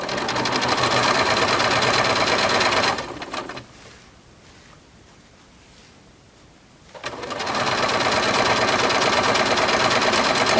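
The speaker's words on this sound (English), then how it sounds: "just start sewing, and then I'll backstitch some" A sewing machine stitches a fabric face mask with a loud, fast, steady mechanical whir up close, stopping for a few seconds in the middle before resuming at full speed.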